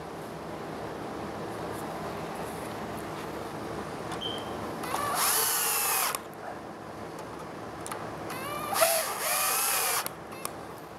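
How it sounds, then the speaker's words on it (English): Power drill driving screws into Eastern White Pine extension jambs, two loud whirring bursts of roughly a second each, close by, separated by quieter workshop background with no talking. "That's the reason for pre-starting your screws."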